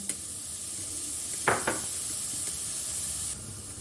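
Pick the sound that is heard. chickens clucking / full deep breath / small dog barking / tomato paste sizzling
tomato paste sizzling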